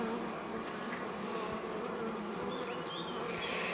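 Bees buzzing in a dense, continuous drone around a hive during inspection of a swarm, close and steady, with a few individual bees flying past.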